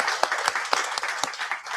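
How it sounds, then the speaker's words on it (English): Brief applause from an audience at a reading and writing event, a steady patter of hands with a few sharper claps standing out, fairly close and moderate in level. "Can we give her a round of applause?"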